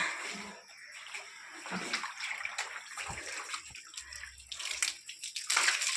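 Water splashed onto a newly built brick wall to cure it: a continuous close hiss of spraying and splattering water with drips, steady throughout.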